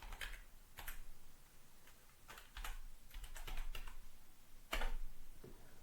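Keys tapped on a computer keyboard in irregular clusters of crisp clicks with short pauses between bursts, close up and alone.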